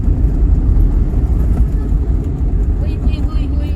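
Car pulling away, a steady loud rumble of engine and road noise throughout, close by, with a voice speaking over it.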